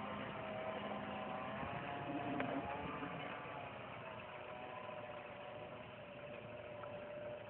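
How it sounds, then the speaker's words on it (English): A 4x4 engine runs steadily at low revs as the vehicle reverses down a hill, a continuous muffled drone with a faint mechanical rattle, alone without talk. "Let's go back, put the vehicle in reverse down."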